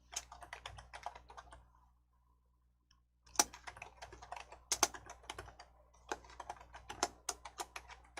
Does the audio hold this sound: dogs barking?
no